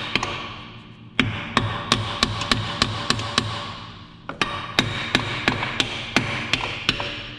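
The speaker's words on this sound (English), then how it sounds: "just gonna tap on those" Sharp hammer taps on Dayton wheel studs ring out in two quick runs, about a dozen close metallic blows with a short pause between the sets.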